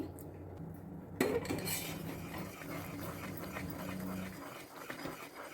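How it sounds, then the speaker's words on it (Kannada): A spoon scrapes and clinks against a pan while stirring a ghee Mysore pak mixture, with a sharp metallic knock near the start followed by steady close scraping and clatter, no talk. "ಕೈ ಬಿಡದೆ ನೀವು ಇದನ್ನು ಮಿಕ್ಸ್ ಮಾಡ್ತಾನೆ ಇರಬೇಕು"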